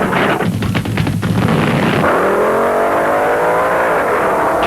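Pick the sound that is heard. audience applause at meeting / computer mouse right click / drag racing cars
drag racing cars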